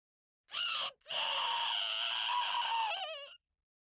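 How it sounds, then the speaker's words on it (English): A character's final anguished scream in the video game Klonoa: Door to Phantomile, heard alone and close, one long high cry broken by a brief catch near its start and wavering as it fades. "That final scream is heart-wrenching, no matter which version of the game you're playing."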